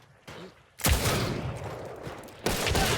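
Gunfire in the video game Hunt Showdown: a faint early shot, then a sudden loud blast with a long rumbling decay, and a second burst near the end.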